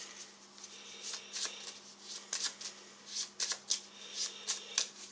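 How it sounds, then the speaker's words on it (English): Playing cards dealt for a cooperative round of the Paperback board game, a run of quick crisp snaps and flicks with irregular rhythm, close and fairly quiet, no talking. "So deal out the 6 cards while I think of it."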